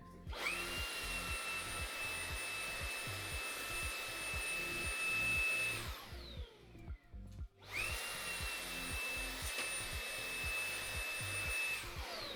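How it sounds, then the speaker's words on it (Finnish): Steady whining roar of a vacuum cleaner sucking dust from the fan side of a computer power supply, close and loud, running continuously, cutting out briefly for about two seconds, then resuming with the same whine. "tää powerin imurointi täältä tuulettimen puolelta sitten"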